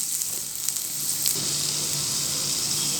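Amla gooseberry pickle sizzling in oil while being stirred, a continuous close hiss with faint scraping strokes from the stirring and a low steady hum beneath.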